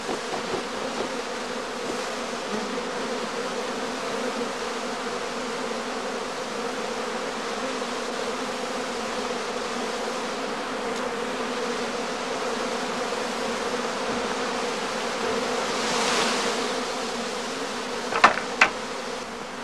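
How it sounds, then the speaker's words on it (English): Honeybees swarming at a heather skep apiary, a dense, steady buzzing hum that fills the air continuously, with a couple of sharp clicks near the end. "Under the shade of the shed roof, the bees gradually calm down."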